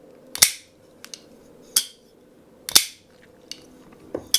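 A custom Peter Rassenti Snafu 3.5 pocketknife with a 3.6-inch blade snaps open and shut, giving several sharp, loud clacks at irregular intervals with softer clicks between, close up against a quiet hum and no talking.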